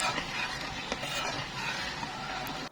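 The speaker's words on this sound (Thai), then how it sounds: "แล้วก็คนให้น้ำตาลละลายค่ะ" Spoon stirring sugar into gently warmed coconut milk in a pot for mango sticky rice: a soft, steady scraping swirl under a low simmering hiss, with one or two faint clinks.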